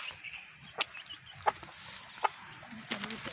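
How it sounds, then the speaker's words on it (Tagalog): Scattered chicken clucks, including a mother hen, and short bird calls at moderate distance, a few sharp peaks over a quiet outdoor background. "may inahin doon"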